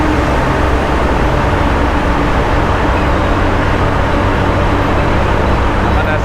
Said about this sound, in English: But the echo of the truck engine sure are loud.